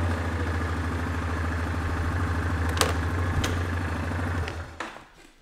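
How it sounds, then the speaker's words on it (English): A quad bike engine runs steadily at close range with a throbbing, clattering idle-to-low-speed drone as it is driven into a shed, then cuts off near the end. "I'm just gonna put the quad bike in the shed before I go home."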